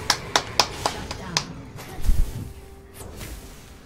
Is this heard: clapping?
yes